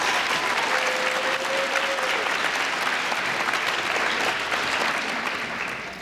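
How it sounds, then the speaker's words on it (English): Audience at a high school awards ceremony gives a long, steady burst of applause, dense clapping that holds loud and even before easing slightly at the end. "One more round of applause for our 12-season award winners."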